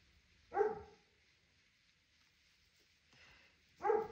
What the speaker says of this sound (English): Every time I start doing a video, my dog decides to bark.